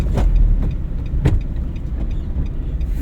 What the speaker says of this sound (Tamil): கிளச்சை பிடிங்க, 2வது கியர் போடுங்க.